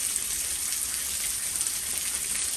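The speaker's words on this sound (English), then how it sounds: "The rain is slowing down." Rain from Hurricane Beryl in southeast Missouri hisses in a steady, dense wash of falling drops, with no voices over it.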